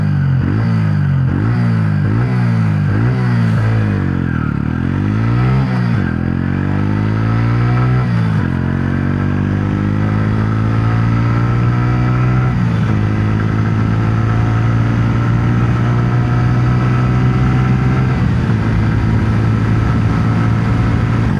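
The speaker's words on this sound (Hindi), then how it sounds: "उसमें सुनते हैं बाइक का प्योर एग्जॉस्ट साउंड।" A Honda CB 125 Hornet motorcycle engine revs repeatedly in rising and falling bursts, then settles into a loud, steady exhaust drone with occasional throttle blips.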